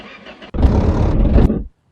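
A large Ford F-350 ramp truck engine, without exhaust fitted, cranks and catches with a sudden loud roar, runs rough and steady for about a second, then cuts off abruptly.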